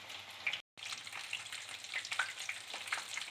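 Fish fries in a pan after being turned to cook the other side, with a close, moderately quiet sizzle and frequent small crackles and spits, broken once by a brief gap of silence.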